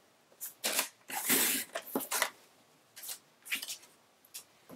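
Blade of a paper trimmer slicing Coastal Cabana cardstock to size, a few short crisp swishing cuts and paper handling sounds in bursts, close up and fairly quiet.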